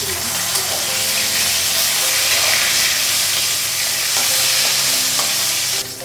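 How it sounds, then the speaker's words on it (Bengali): Fish sizzling and frying steadily in a pan at home, with a continuous close hiss and occasional stirring scrapes throughout. "মাছটা ভাজা হয়ে গেছে"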